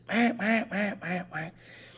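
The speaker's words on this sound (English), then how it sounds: "Then you have one or two ducks that go that," Five loud, close duck quacks in a steady descending run, each a nasal honk, with a faint breathy tail afterward and no talking over them.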